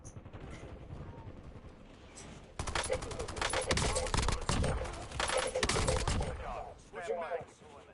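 Call of Duty gunfire on Rebirth Island: after a few quieter seconds, a loud, sustained burst of rapid automatic shots rattles for about four seconds, then stops abruptly.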